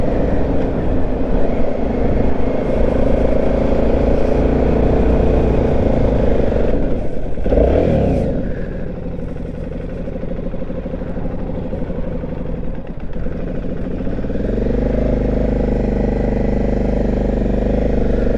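An Aprilia Shiver 750 motorcycle runs with a busy, rattling engine note, the throttle feathered on and off, with a sharp clunk and a swooping tone change midway before the steady drone returns.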